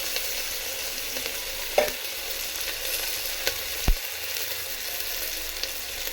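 Coriander and curry leaves sizzle in hot tempering oil for a herbal rasam, a steady, close frying hiss with a few faint clinks of a spoon against the pan.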